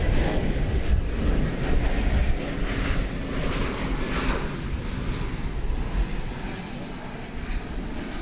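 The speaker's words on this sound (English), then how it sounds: "we got a plane coming in here" Jet airliner on approach to land at DFW Airport, a steady broad engine roar that stays fairly loud and constant throughout with slight rises and falls, heard from the ground with no talking.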